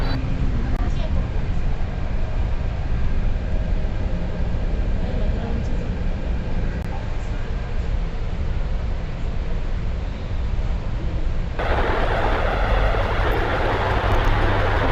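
Jaipur Metro train riding, a steady loud rumble of the carriage in motion throughout, brightening in tone near the end, with people talking over it.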